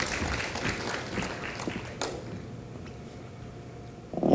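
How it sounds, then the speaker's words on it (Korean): An audience at a citizens' future forum in Gwangju applauds to welcome a speaker, dense clapping that is fairly loud at first and gradually thins and fades. "박수로 맞아주시기 바랍니다"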